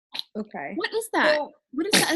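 A single sharp sneeze bursts out near the end amid casual conversation, with people talking just before it.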